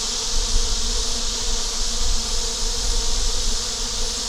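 A dense mass of honey bees buzzes outside their hive on a hot day, a loud, steady, close droning hum with no voices.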